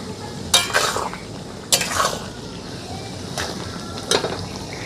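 Sugar being stirred into a mixed vegetable pickle in a pan, with four scraping strokes of a spoon against the metal, each a short rough swish, over steady low background noise.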